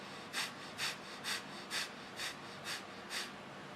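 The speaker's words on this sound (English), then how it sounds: "The best way to describe breath of fire is basically you're panting like a dog, except you're breathing in and out through your nose." Kundalini yoga breath of fire: seven quick, even nasal pants through the nose, each a short breathy puff at a steady rhythm about two per second, close and clear over a faint hiss, with no talking.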